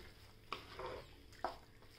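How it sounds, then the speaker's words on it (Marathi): Leftover masala being stirred into stuffed cucumber dry bhaji in a pan, with two distinct scraping clinks of a spoon against the pot over a faint background hiss. "असं व्यवस्थित हलवून घ्यायचं, म्हणजे याला सगळं कोटिंग व्हायला पाहिजे भाजीला मसाल्याचं"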